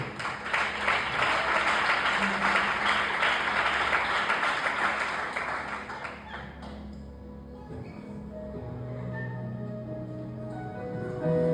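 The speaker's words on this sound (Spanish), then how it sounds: "Da un aplauso al Señor." A church congregation applauds during a Spanish-language service: loud, dense clapping fills the first six seconds, then fades as sustained musical tones carry on.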